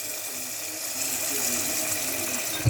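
Water runs steadily over cooked penne pasta, a continuous close pouring hiss with no talk, ending in a small thump.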